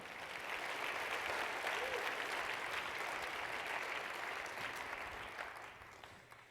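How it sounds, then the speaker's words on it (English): An audience at a hospital medicine conference closing plenary gives award winners a dense, continuous round of applause that holds steady for several seconds, then tapers off toward the end. It sounds moderately distant and fairly soft. "Let's give a round of applause for all of our winners."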